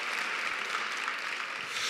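Steady applause from a commencement audience, a dense even wash of many hands clapping at moderate distance, fairly faint, continuous throughout with no speech.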